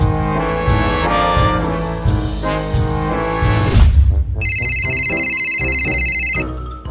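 Music plays loudly, then cuts to a bright, high electronic phone ringtone trilling steadily for a couple of seconds before fading.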